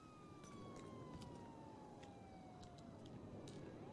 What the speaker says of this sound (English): There's like a police car that's been going off for like the past like 20 minutes.